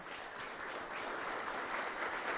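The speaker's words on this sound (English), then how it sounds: "Let's give these legends a round of applause." A ceremonial crowd applauds steadily for a few seconds, a dense wash of clapping heard at a moderate distance at the opening of a broadcasting union's annual general assembly.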